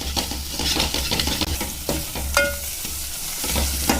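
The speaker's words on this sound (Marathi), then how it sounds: "आता आपण छान प्रकारे असं हलवून घेऊया।" A spoon scrapes and stirs turmeric and misal masala frying in hot oil in a pot for Pune-style misal, with steady close sizzling and a few metallic clinks against the pan.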